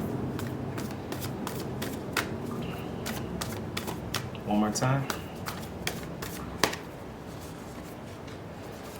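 Oracle cards are shuffled with rapid, crisp riffling clicks and flutters while a soft voice speaks briefly, close up and fairly quiet.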